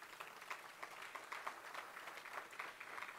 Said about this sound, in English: that is worth a round of applause